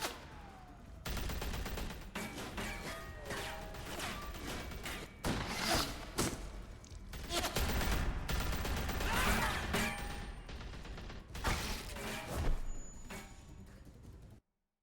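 Gunfire in The Walking Dead: A New Frontier game, a dense run of sharp shots and thuds repeating across the whole stretch at steady loudness, with no talk over it.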